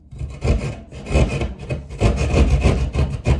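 Rough rasping and scraping bursts as drywall is cut and dug out for an old-work electrical box for a wall-mounted light fixture, close and loud, coming in several uneven strokes with brief pauses and no talking.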